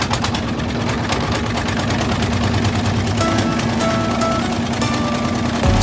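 A trawler boat's engine runs loud and close with a rapid rhythmic chugging and rattling, steady throughout, with faint tonal sounds of people or background noise mixed in.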